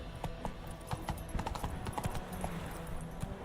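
A horse's hooves clip-clop at a steady trotting rhythm in The Witcher 3, close and moderately loud with faint game ambience beneath, and no speech.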